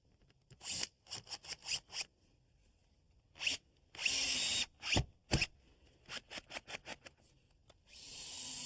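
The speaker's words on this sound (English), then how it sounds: "I'm staggering the screws on the 2x4 so we don't split it" A power drill drives screws into a 2x4 cleat on a wooden picnic table, with short staccato bursts of whirring in quick clusters and a few longer runs as screws seat, close and clear with no talk.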